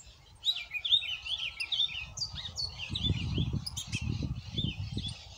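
A male blue grosbeak sings from a cage, with repeated bright, warbling chirps and short phrases over a constant low rumble of background noise.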